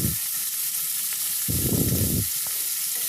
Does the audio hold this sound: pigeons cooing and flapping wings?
no